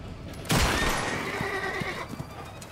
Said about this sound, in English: Oh no, the horse!